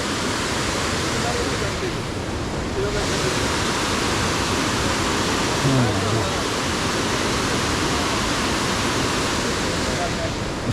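Sailaprapat waterfall in Bandarban on a rainy day gives a loud, steady broadband rush of falling water, and a voice briefly talks over it.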